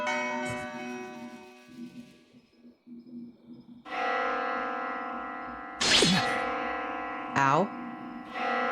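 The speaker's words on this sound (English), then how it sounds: "The sound of a bell suddenly echoes in my mind." Bell tolls ring out in the horror video game Death Mark 2, sustained resonant strikes with long humming decay, a few loud struck peaks near the end layered over a lingering drone, with no talking.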